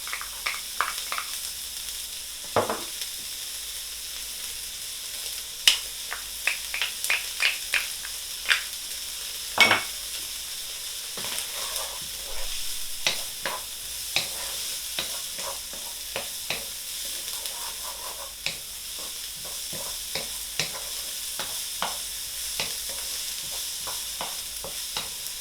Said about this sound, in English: Now we're frying the chilies and the onion.